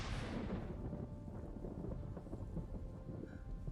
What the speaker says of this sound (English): there's a storm moving in